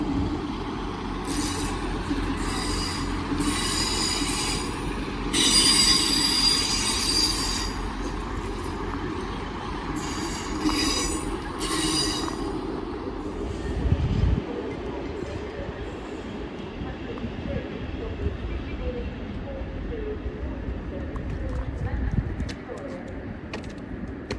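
A double Class 158 diesel multiple unit pulls in to terminate at Wigan North Western, its wheels squealing loudly on the rails amid continuous rumble and clatter, with a louder screech in the middle and voices murmuring in the background.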